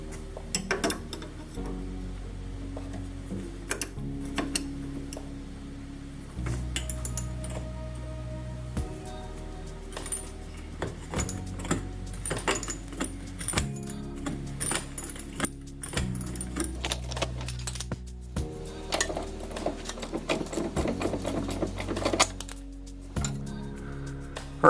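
A wrench or ratchet working loose the nuts and bolts on a car's shock absorber mount, close metallic clicks, clinks and ratcheting in uneven bursts over a steady low hum.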